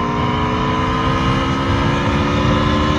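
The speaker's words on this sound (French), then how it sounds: "Je trouve que le son de la moto suffit amplement, il est super." Aprilia Tuono V4 1100 Factory motorcycle under way, its V4 engine a loud steady roar with constant wind rush, heard close up from on board, with no talking.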